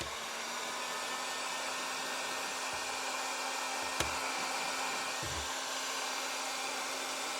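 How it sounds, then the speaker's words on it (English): Steady, loud blowing whir of a heat gun running continuously, with a faint hum and a few soft knocks. "But let's get the heat gun on this now. This will get noisy."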